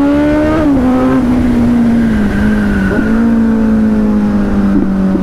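A Kawasaki Z900 motorcycle being ridden through city streets, its exhaust holding a loud, steady engine drone close by, with small shifts in pitch as the throttle changes.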